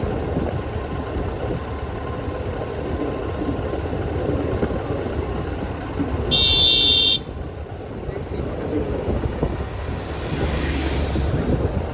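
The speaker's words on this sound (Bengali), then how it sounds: "আমাদের বাইকারও কিন্তু হর্ন দিছে এই জায়গাটার মধ্যে, দেখছেন?" A motorbike horn sounds once, a bright honk lasting about a second, on a mountain road to Boga Lake in Bandarban, over a steady engine and road rumble with voices in the background.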